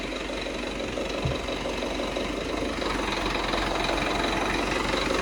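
A heavy diesel tractor engine idles steadily and close by beside an Arpal MK-120TR loader, a constant low rumble with a rattling knock and no voices.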